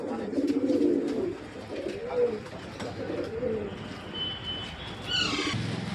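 Sirazi pigeons coo in a pigeon shop, with low, repeated throaty cooing near the start and scattered soft calls continuing underneath, plus a brief higher chirp near the end.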